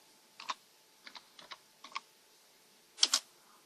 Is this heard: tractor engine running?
no